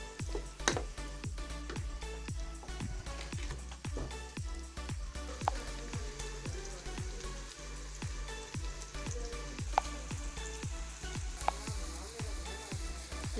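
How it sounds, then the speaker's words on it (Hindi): Onions frying in a pan for a chicken karahi, a steady crackling sizzle with scattered sharp pops throughout, no voices. "प्याज को ब्राउन होने तक पकाएंगे।"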